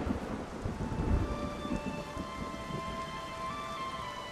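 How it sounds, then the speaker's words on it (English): Steady heavy rain pours down with rolling thunder in a stormy Witcher 3 game scene, a deep rumble swelling early on and then settling into a continuous roar of downpour. "Then all of a sudden lightning started pounding down."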